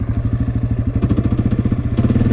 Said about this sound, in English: you can hear the engine kind of chugging